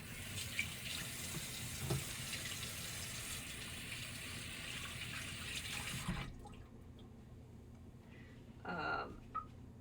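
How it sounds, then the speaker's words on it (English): Hands are washed under a running kitchen tap while baking pumpkin pie after separating eggs: a steady, fairly loud rush of water flows for about six seconds, stops abruptly, and is followed by a brief clatter near the end. "I'm going to wash my hands because I covered an egg"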